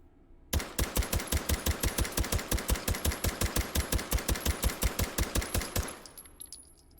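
A suppressed Beretta CX4 carbine in the H3VR video game fires a fast, evenly spaced string of muffled shots for about five seconds, then a short fading tail and a faint clink.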